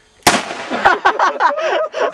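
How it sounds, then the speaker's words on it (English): A single loud shotgun blast fired outdoors toward the ground, a sharp close crack followed by a rolling echo that fades over about two seconds. "I think you're better at the shotgun. It's so loud."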